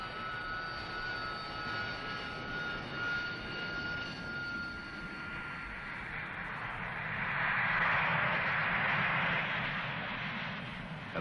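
Engine of a Royal Air Force Harrier jet at an air base, a distant, steady roaring whine that swells louder toward the end, heard alone with no talk.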